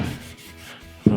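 A cloth rubs finish onto a sapele wood board in close, soft, repeated swishing strokes, ending in a brief louder scuff.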